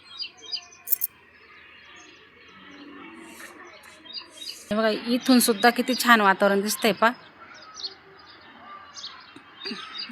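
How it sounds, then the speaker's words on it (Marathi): Birds chirp and tweet in short, scattered calls from the outdoor surroundings of a terrace, some loud and close, alongside a stretch of talking in the middle. "पक्ष्यांचा आवाज सुद्धा खूप छान येतोय."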